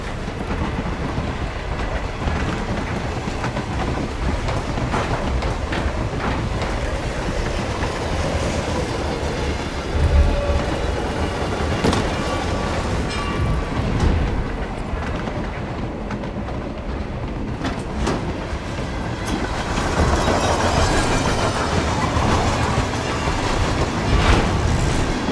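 Interior ambience of a moving train carriage in the HITMAN video game: a steady rumbling roar with rhythmic clickety-clack of wheels and faint occasional squeals, constant throughout with no talk.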